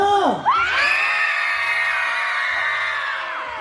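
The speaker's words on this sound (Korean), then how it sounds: "자, 우리 젊은 친구들은 함성!" A crowd of young festival-goers at an outdoor village festival in Yeoju raises a loud, sustained cheer, with ringing whoops and shouts holding on for several seconds before slowly tapering off.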